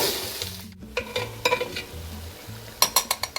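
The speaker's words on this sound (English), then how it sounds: "So I'm just going to break it up, move it around, just until it loses its pink color." 80-20 ground beef being broken up and stirred in a pan, a spatula scraping and tapping against the metal in irregular clicks over a soft steady sizzle, close and without talk.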